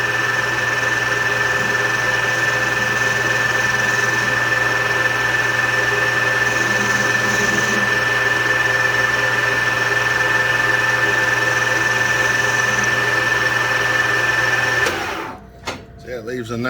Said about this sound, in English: Or not a rethreader, but it's a thread cutting tool.